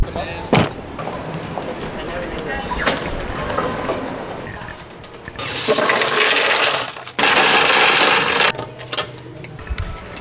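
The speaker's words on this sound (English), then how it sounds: "Coins deposited successfully." Coins rattle and clatter into a coin-operated machine in a busy harbourside spot, two long loud bursts of jingling metal, preceded by scattered clicks and street noise.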